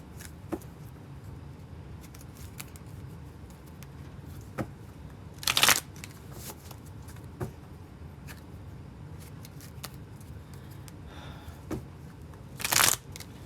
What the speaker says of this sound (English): let's shuffle these real quick and get some clarifiers on this